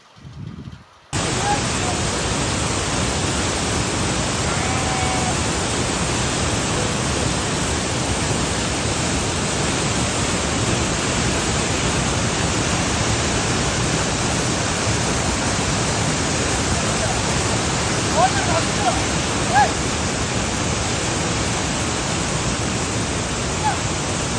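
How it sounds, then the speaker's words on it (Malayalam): Pulikode waterfall in Kasaragod, Kerala, roars as a loud, steady, unbroken wash of falling water close at hand, with people bathing beneath it and no clear voices over the din. "വെള്ളച്ചാട്ടത്തിന്റെ ഭീകരമാണ്"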